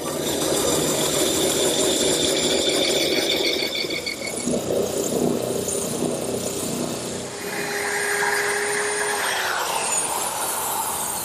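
A router fitted with a 1/4-inch roundover bit eases the corners of wooden garden armchair parts, giving a steady high-pitched whir with shifting tones as it cuts, then a changing pitch as it spins down, close and loud with no talking.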